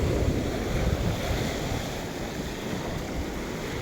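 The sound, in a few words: sea waves at high tide on the shore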